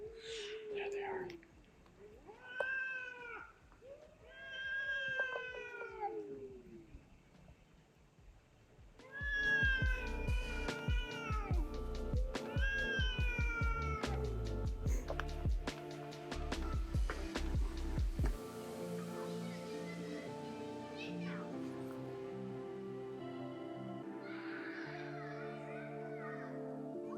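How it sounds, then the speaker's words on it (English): Cats in the town of Chulilla, Valencia, Spain, meowing and yowling in a drawn-out, rising and falling chorus close by, growing into a dense, loud mix in the middle before settling into a steadier tonal hum. "after listening to the local cat opera"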